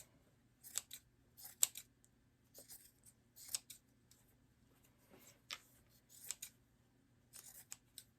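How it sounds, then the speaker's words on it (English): Scissors snip away excess material on a handmade embroidery hoop bunny sign, a series of quiet, close, irregular crisp cuts with short pauses between them. "you can also trim this little excess piece in behind here, the square."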